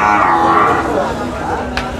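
A bull at a rural cattle market lets out a loud, drawn-out low moo at close range, which fades into busy crowd noise and chatter.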